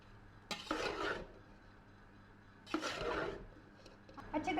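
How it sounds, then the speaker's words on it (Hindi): Egg fried rice with green onion being stirred in a pan, two long scraping, sizzling stirs a couple of seconds apart with a third starting at the end, faint and close. "चावल हमने अच्छी तरह से मिक्स कर लिए हैं"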